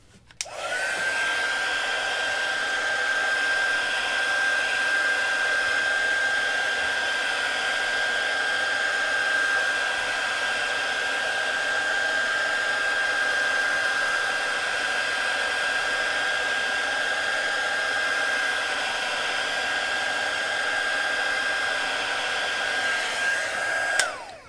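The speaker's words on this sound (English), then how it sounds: "So let's go ahead and heat up this battery a little bit." A heat tool blows continuously while warming the battery of a Galaxy S10 Plus during screen repair, a steady loud whooshing hiss with a sustained whine, close and alone throughout.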